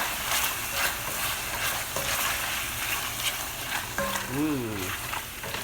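Food is stirred in a pot of Puerto Rican beef stew over a continuous sizzle, with occasional scraping, and a brief wavering voice joins near the end.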